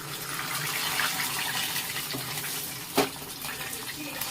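Fried ghee with cashews and raisins pours into a pot of sweet pongal, a steady close liquid trickle and sizzle with a brief clink near the end.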